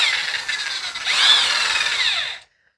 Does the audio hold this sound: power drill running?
yes